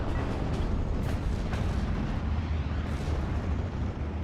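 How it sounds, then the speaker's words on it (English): Nebelwerfer rocket artillery barrage in Steel Division: Normandy 44, a dense, continuous rumble of distant blasts and booms with a few sharper impacts rising out of the roar. "here comes another Nebelwerfer"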